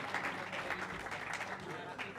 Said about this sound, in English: Another round of applause for Fabio Petroni for entertaining us in the break.